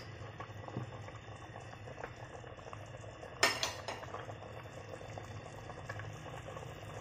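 Pork legs boiling in a pot for a Filipino kadyos baboy papaya stew, a low, steady bubbling simmer broken by one sharp metallic clank of a utensil against the pot partway through.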